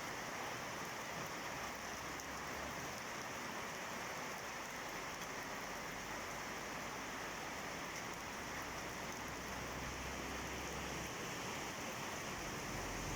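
Steady rain falls over Vang Vieng, Laos, a soft, even hiss of drops that continues without pause and stays faint and distant throughout.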